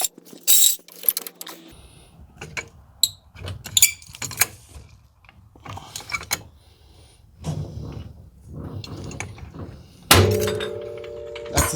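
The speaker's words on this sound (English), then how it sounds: "The suspension knocking back into place. Woo, that was loud." Car suspension, left up on stands for months, clunks and knocks back into place as it is lowered to the ground, giving irregular metallic thuds and creaks that end in a loud heavy bang.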